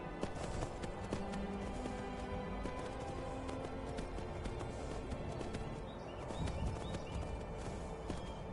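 A horse gallops in Skyrim, Anniversary Edition on Survival Mode, its hooves clip-clopping in a steady, fairly close rhythm over ambient game sound.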